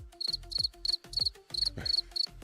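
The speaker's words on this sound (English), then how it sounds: "All I'm hearing is crickets." Crickets chirp in quick, evenly spaced pulsed bursts, a steady rhythmic trilling that repeats about every quarter second, loud and alone against near silence.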